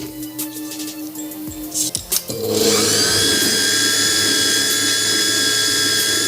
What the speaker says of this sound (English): we go straight to mixing our butter and sugar